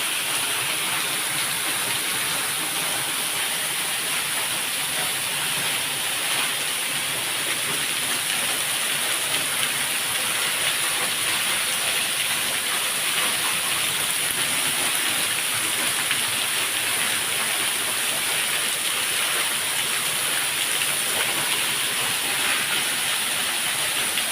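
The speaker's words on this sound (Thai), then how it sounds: "ครับนี่คือน้ำตกถ้ำโสดานะครับ" Tham Soda waterfall at a temple cave site in Nong Phok, Roi Et, Thailand, pouring continuously as a loud, dense, unbroken rushing hiss that holds steady throughout, with no voices.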